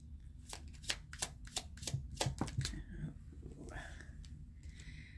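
Tarot cards being shuffled by hand, a rapid burst of crisp riffles and slaps for about three seconds, then softer handling noises, close and quiet.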